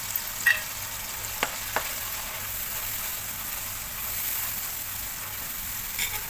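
Masala with tomato puree and Schezwan sauce sizzles steadily in a pan for sizzler biryani, a constant close frying hiss with a few faint clinks of a utensil.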